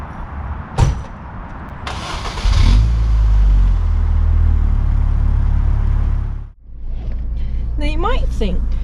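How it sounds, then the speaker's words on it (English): A Rover 45 car engine starts up and settles into a steady low rumble that runs loud and close for several seconds, then dips briefly and resumes, with a voice speaking over it near the end. "today I'm going to drive a Rover"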